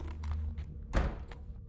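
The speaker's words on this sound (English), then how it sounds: "Door closed. It's darkness." A single dull thud of a door shutting near the middle, muffled and low, over a quiet droning video game background.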